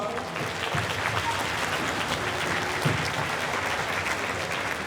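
A crowd at a school band concert breaks into sustained applause for parent volunteers, a dense, even wash of many hands clapping steadily throughout.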